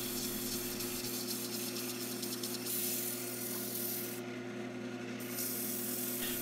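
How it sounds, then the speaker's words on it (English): Steady abrasive rubbing of sandpaper on a silver maple log shaped into a Thor's hammer prop, a continuous close rasp over a low constant hum with no voices. "Some more sanding to get this down to perfect."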